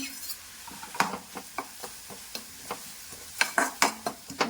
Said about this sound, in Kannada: ಇದಿಷ್ಟನ್ನು ಚೆನ್ನಾಗಿ ಮಿಕ್ಸ್ ಮಾಡ್ಕೋಬೇಕು